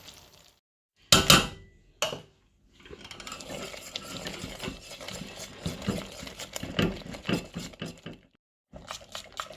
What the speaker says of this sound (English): if you keep whisking until it's about this sort of consistency